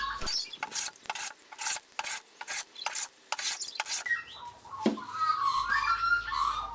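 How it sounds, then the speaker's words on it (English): A hand plane shaves a wooden board clamped by a holdfast on a workbench built from four pallets, making about ten rhythmic rasping strokes, followed by a few seconds of quieter scraping and shuffling. "This easily holds the board in place while I'm planing it."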